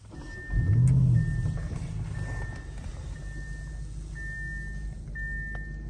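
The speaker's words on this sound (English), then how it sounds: "foot on the brake and press the start button." A 2024 Audi RS 6 Avant starts up with a loud engine burst that flares briefly and then settles into a steady, rumbling idle, heard close with a faint tonal chime in the background.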